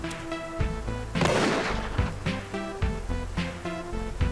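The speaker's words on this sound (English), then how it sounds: "Well, I feel like shooting a man." Gunfire from the video game Always Sometimes Monsters, a string of sharp, loud shots and booming blasts over game music, with one heavier burst standing out in the middle.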